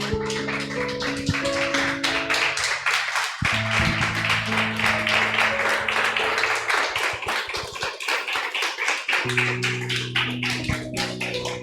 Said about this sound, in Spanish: Dele un fuerte aplauso al Señor, por favor.